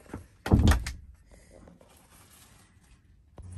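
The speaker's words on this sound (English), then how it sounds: "I'll close the door, but I'll leave the camera in here." A door in a camper van shuts with one solid thump close by, followed by faint rattling and quiet room tone, with another soft knock at the end.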